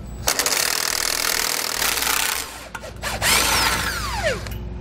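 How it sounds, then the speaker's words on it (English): A power tool, likely an impact gun driving a socket, loosens a bolt on an electric trailer brake assembly with dust shield while a wrench holds the nut, giving a loud close whirring burst, a pause, then another short spin. "I'm going to take an 11 16 wrench and hold the nut on the back side while I use a 5 a socket to remove the bolt"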